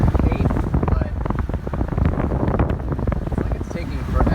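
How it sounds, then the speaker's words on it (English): Strong wind buffets a small fishing boat crossing choppy open water in Charlotte Harbor near Boca Grande, a dense, steady low roar with rough gusts and irregular thumps throughout. "It's very windy and choppy."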